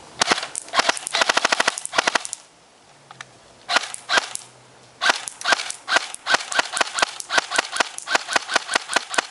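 G&G Combat Machine M4 blowback airsoft gun firing on full auto, loud close rapid bursts of sharp cracking shots separated by brief pauses, with a faint motor whir between strings.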